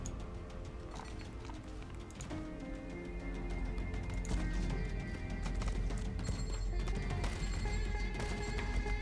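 Cavalry horses gallop across the battlefield of a World War II strategy video game, their steady hoofbeats mixing with whinnies and battle noise in a continuous, dense din.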